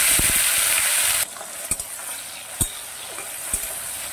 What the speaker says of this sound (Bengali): এবারে আমি দিয়ে দেব প্রথমেই টমেটোগুলো।